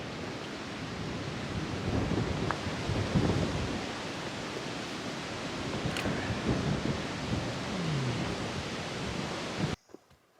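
Wind sweeps across the summit of Standing Indian Mountain on the Appalachian Trail, a steady, full rushing roar buffeting close to the microphone before cutting off abruptly near the end.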